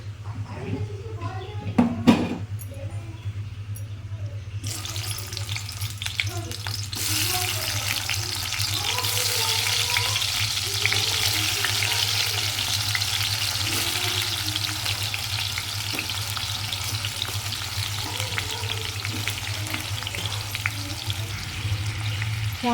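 Tomatoes fry in oil in a pan with a steady, continuous sizzle that swells after a few seconds and holds throughout, preceded by a few clinks and scrapes, with a low hum underneath.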